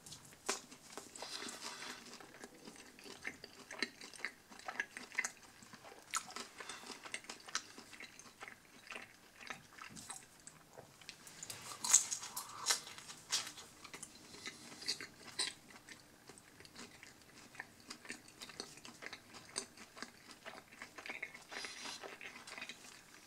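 A Domino's salami pizza is bitten and chewed close up, with soft, irregular crunching and mouth sounds over a quiet background and no speech.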